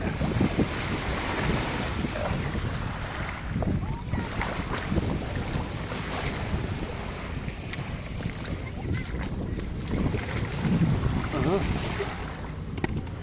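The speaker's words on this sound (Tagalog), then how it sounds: "Yan guys, maalon ang tubig guys." Rough, choppy open water slaps and churns around a small boat, with steady wind buffeting the microphone throughout; a voice talks intermittently over the continuous wash of waves.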